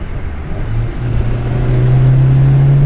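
Turbocharged BMW E36 pulling hard in third gear, its engine note a loud, steady drone that climbs in pitch as it accelerates up through the revs, close and alone with no talk.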